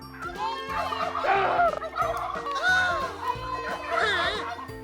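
Turkeys gobble loudly in repeated rising bursts, close by, while children call out to them on a farm, their voices mixing with the birds.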